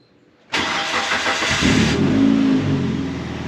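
Dodge Neon racecar engine cranks and catches after a fresh fuel pump replacement, bursting abruptly into a loud rough run, then settling into a steady idle that eases slightly in level, close up with no talk.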